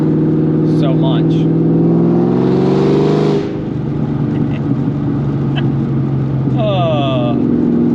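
A Cobra sports car engine driving on the road with a steady low drone that swells into a rev early on, then drops back to a lower, even cruising hum. Faint brief chirping sounds appear over the engine.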